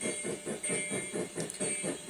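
Rhythmic chuffing of the Meadow River Lumber Company Shay #7, an early-1910s geared steam locomotive with a wagon top boiler and steel cab, pulses steadily at a fairly quiet level with a constant high hiss and no voices.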